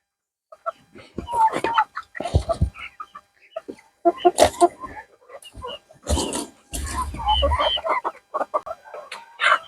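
Poultry chickens recovering after a dose of aloe vera medicine cluck and squawk in loud, irregular bursts close by, some calls strained and harsh, separated by short silences.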